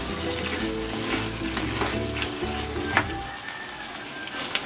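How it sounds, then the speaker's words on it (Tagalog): Squid sautés in a hot pan with a continuous close sizzle and crackle, broken by a few sharp stirring clinks, with soft background music underneath. "Saglit lang natin itong lulutuin para hindi kumunat yung pusit."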